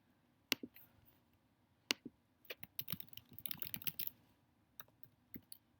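Typing on a computer keyboard: quiet, close clicks in short irregular bursts, a couple of sharper isolated keystrokes first, then a quick flurry of taps, heard alone.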